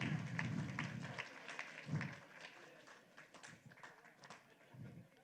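Scattered applause from a crowd, fairly faint and uneven, with a few louder claps near the start.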